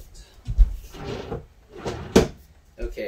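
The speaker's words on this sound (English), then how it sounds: "let's go ahead and open up the convection oven" A convection oven door being opened with several clunks and knocks, the sharpest coming midway, mixed with brief handling noises at close range.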